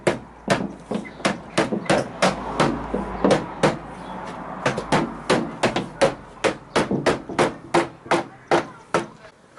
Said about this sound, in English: reposition the cover strip and tap back in place using a mallet or a hammer